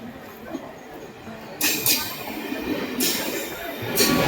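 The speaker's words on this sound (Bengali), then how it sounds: "নম্বর 3 থেকে কিন্তু আমাদের আসছে হাওড়া মেদিনীপুর লোকাল।" A Howrah–Medinipur local train pulls into platform 3, building from quieter station noise into loud, rushing bursts of rolling carriages and wheels nearby.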